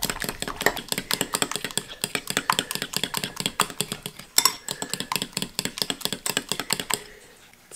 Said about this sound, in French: On va brasser jusqu'à temps qu'on obtienne un mélange bien lisse.